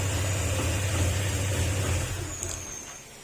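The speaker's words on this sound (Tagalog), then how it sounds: "sa starting pa lang, sablay na, nanginginig-nig yung makina" Honda Click 125 scooter engine after a top overhaul, running rough and unstable at low idle, a steady close mechanical drone that fades slightly toward the end, with no talk.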